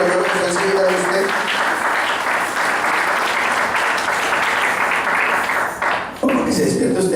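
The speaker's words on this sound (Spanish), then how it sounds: "Dale un aplauso al Señor" Church congregation applauding loudly and continuously for several seconds, a dense crowd clapping under a speaker's voice, with the clapping thinning near the end.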